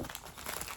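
Plastic packaging of a Loungefly and Hot Topic merch haul crinkling as it is opened, a short close crackling burst.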